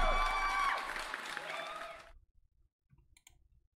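Recorded applause from a soundboard effect: a dense burst of clapping and cheering plays loudly for about two seconds, then cuts off abruptly, followed by a few faint clicks.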